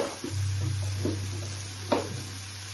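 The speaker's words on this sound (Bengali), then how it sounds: "নুন দিয়ে আমি এখন দিয়ে দিচ্ছি পনিরগুলো" Paneer frying in a pan and being stirred for a dhaba-style curry, a steady low sizzle with a few soft scraping strokes and one sharper clink of the spoon near the end.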